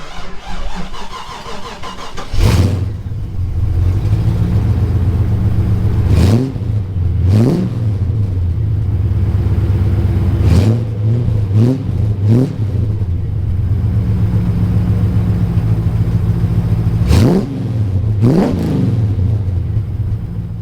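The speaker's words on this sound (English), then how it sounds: "How about a cold start?" A factory-stock car with headers, twin exhaust and a mild intake pipe mod cold starts, cranking into a rumbling idle, then revs in repeated sharp blips over a steady burbling exhaust.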